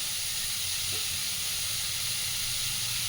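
Vegetables hit a hot pan with onions cooked in salt, giving a steady, even hiss of sizzling that holds for a few seconds with no voices.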